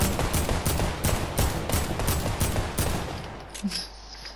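Rapid gunfire in the video game Fortnite as a player shoots down a supply drop: about eight evenly spaced, loud, sharp bursts that stop abruptly near the end.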